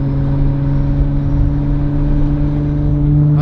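A Nissan R32 GTR drives along with a steady, loud low engine drone and road hum, holding an even tone with no voices.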